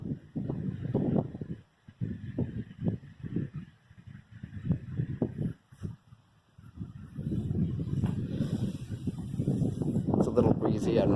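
Breezy wind buffets the microphone on a hike up to the Oak Hill Fire Tower, with gusting rumble that rises and falls and builds toward the end, while a voice talks over it.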